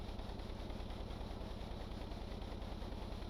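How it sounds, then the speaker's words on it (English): Steady low engine drone with a fast regular pulse from a throttling-up engine in the video game Stormworks, holding at around 300 RPM, continuous and even with no talk. "it's throttling up. It's still in a nice low RPM"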